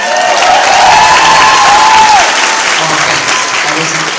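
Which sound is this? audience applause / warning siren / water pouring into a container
audience applause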